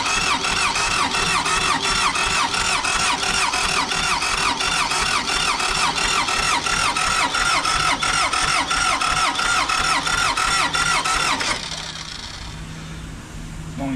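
A car engine cranks in a long, rapid, rhythmic churn for about eleven seconds, then catches and settles into a lower idle.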